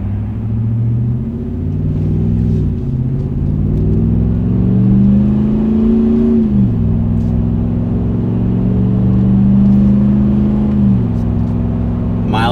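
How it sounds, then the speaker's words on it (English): Deep, steady engine rumble from a RAM 1500 V8 pickup's MBRP aftermarket muffler exhaust, rising in pitch as it accelerates onto a highway, dipping at a gear shift, then climbing again. "Let's hear what a real V8 sounds like."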